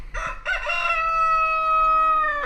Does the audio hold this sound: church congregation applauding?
no